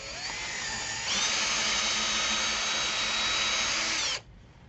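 A power drill bores a hole through a wooden yarn bowl on the lathe, a steady high whine that rises in pitch and loudness after a second, holds, then cuts off sharply near the end.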